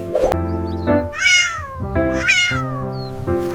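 A domestic cat meows several times close by, each call a clear, drawn-out cry with short pauses between, loud and alone with no talking.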